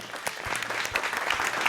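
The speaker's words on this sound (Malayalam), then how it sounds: "ഗ്രാൻഡ് മാജിക്കൽ സർക്കസിലൂടെ ഒരു വലിയ കൈയടി." Audience at a Grand Magical Circus show breaks into applause, a dense spread of clapping from a crowd lasting throughout, fairly close and unaccompanied by talk.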